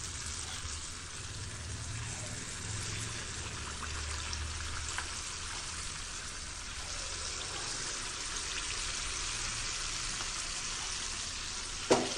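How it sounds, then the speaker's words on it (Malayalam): Unniyappam made from jackfruit and rice flour frying in hot oil, a steady, even bubbling sizzle that continues throughout, close and moderate, with a small knock at the very end and no voices. "അപ്പോൾ ഒക്കെ കഴിഞ്ഞ് നോക്കുമ്പോൾ ഇതാ ഫ്രൈ ചെയ്യാൻ വെച്ചിട്ടുണ്ട്."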